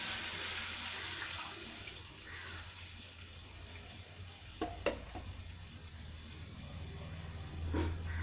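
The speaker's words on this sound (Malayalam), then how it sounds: "ഇത് നമുക്കിതിലേക്ക് പാലൊഴിക്കാം." Milk poured into a pan for vermicelli kheer, a steady soft liquid hiss and gurgle with a few light clinks near the end, close and fairly quiet, no talking.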